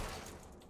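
A single Valorant Classic pistol shot fired in the video game: a brief, loud, dense burst with a rough tail that fills the short moment, with no voices.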